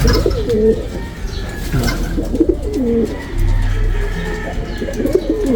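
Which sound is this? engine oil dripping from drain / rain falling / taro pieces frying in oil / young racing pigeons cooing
young racing pigeons cooing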